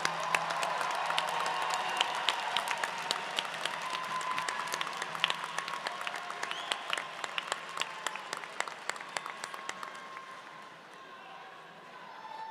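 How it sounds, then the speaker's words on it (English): A convocation crowd at the Rutgers School of Social Work applauds its graduates, with many sharp individual claps standing out over a broad wash of clapping that thins and fades toward the end. "let's give another round of applause for all those wonderful graduates"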